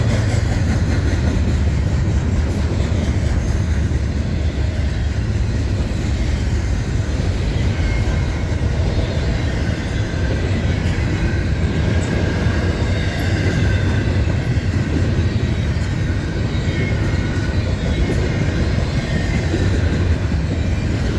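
A long Norfolk Southern coal train heading southbound rolls past close by, a continuous loud rumble of wheels and cars with occasional squeals, sustained without a break and with no talking.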